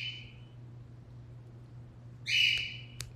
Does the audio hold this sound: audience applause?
no